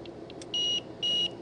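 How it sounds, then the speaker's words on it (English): A UPS unit beeps during a self-test that simulates a blackout and switches to battery mode. Two loud, close electronic tones, each about a quarter second long, sound over a steady low hum, with a few faint chirps before them. "When you hear the beep, the unit is simulating a blackout"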